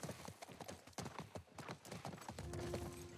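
A horse's hooves clip-clop in The Last of Us, a run of close, crisp hoof strikes in an uneven walking rhythm, ending with a brief low whinny-like tone.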